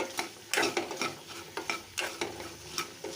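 Cashew nuts fry in ghee with pepper while being stirred, producing quiet crackling and a rhythmic series of scraping strokes across the pan, close by and with no voices.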